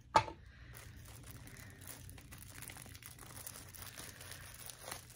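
Plastic packaging is cut away and crinkled off a potted houseplant during an unboxing, starting with a sharp snip and followed by soft, steady rustling and crackling close by, with no talk.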